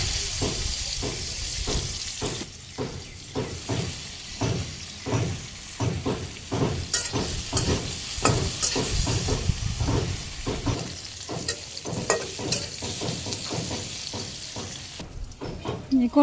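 Bitter gourd coated in turmeric and chili powder sizzles loudly in hot oil, a dense steady frying hiss with rhythmic stirring bursts, close by, with a voice speaking over it.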